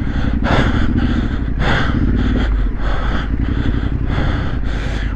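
A trail motorcycle engine runs after slipping into false neutral, a loud, rough, continuous throbbing idle with rhythmic pulsing surges, heard close with no talk.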